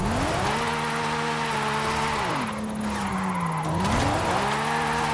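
Car drifting through a drift zone in Forza Horizon 5 on a steering wheel, engine revving up and down with sustained squealing tires, loud and close, pitch dipping mid-slide then climbing again.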